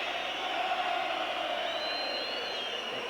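A football stadium crowd at a play-off final raises a sustained, dense roar of shouting and whistling, holding at a steady, loud level without pause.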